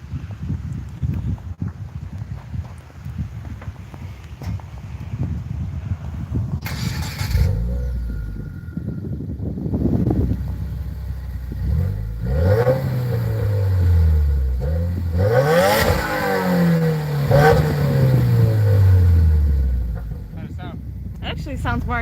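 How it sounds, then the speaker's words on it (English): A 2020 Subaru WRX Series.White cranks and fires up, heard from right behind the exhaust, then settles into a rumbling idle before two loud rising revs and falling blips. "if you want to take the camera, Liz, I'll start it up and we can get a little exhaust clip"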